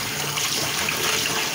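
Tap water runs steadily over a freshly scrubbed black kadai being rinsed clean, a soft continuous splashing wash with no talking.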